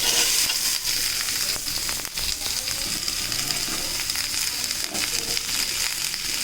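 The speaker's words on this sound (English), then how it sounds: "we are going to stir them till they become translucent" Finely chopped onions and garlic fry in a pan under a continuous, bright sizzle, with occasional scrapes and thumps of stirring breaking through, close up and without any talking.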